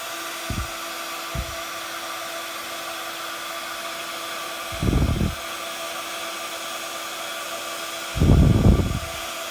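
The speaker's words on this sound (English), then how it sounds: "bringing in my heat tool, I'm just going to heat emboss that" A heat embossing tool blows hot air over a stamped card in a steady, whirring hum with a high whine, broken by a few brief low thumps and bumps of handling, with no talking.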